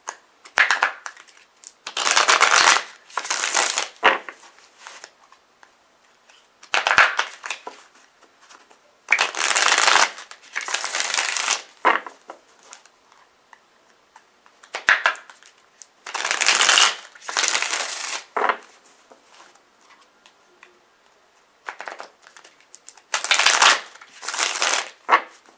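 Tarot cards shuffled in bursts, loud close riffling and crisp flutter in several separate rounds of a few seconds each, with silent pauses between.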